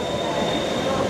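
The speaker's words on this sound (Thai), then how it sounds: "รถไฟฟ้าออกแล้ว" A skytrain departing a station at night, a steady rumbling rail noise with a faint high squeal, heard briefly from on board.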